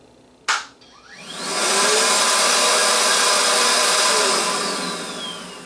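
Milwaukee M18 battery backpack vacuum at speed 2, starting with a click and spinning up into a loud, steady high-pitched whine that holds close and then eases slightly toward the end.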